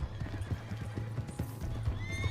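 In Red Dead Redemption 2, a horse gallops with quick rhythmic hoofbeats under a steady low rumble, and a thin whinny rises near the end.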